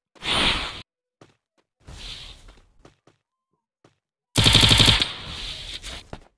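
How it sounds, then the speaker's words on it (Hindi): Gunfire in the video game Free Fire, with rapid automatic bursts: one short burst, a second burst, then a louder sustained burst, separated by faint clicks and footsteps. "ओपी शवाल हमारे कप्तान को हेडशॉट मारना चाहते हैं।"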